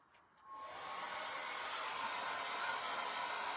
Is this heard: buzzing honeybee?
no